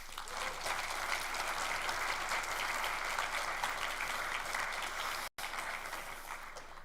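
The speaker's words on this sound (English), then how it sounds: "Let's give her another huge round of applause, guys." A large audience applauds at a TEDx talk, dense continuous clapping that holds steady for several seconds and briefly drops out near the end.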